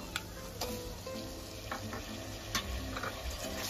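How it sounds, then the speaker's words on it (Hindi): Tomatoes frying with spices in a pan over medium heat for an aloo gosht korma, a steady close sizzle broken by a few sharp scraping stirs, with no talking. "मसालों के साथ टमाटो को अच्छी तरह से भूनेंगे"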